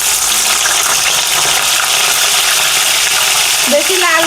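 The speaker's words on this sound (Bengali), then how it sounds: "কড়াইতে তেল গরম হয়ে গেছে, এবার একে একে করে সবজিগুলো, ফুলকপি, বিনস, আলু, গাজর, কুমড়ো," Cauliflower, beans, potato, carrot, pumpkin and soybean sizzle in hot oil in a kadai, a loud, steady, close crackling hiss throughout, with a brief clink of a utensil near the end.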